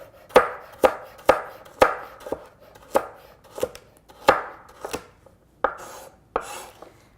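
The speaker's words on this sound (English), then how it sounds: "cut it into 2 parts just so that I have even sized pieces" A knife chops a carrot into even-sized pieces on a cutting board, about a dozen sharp, close knocks at an irregular pace, each a crisp thud with a short rustle, with no voices.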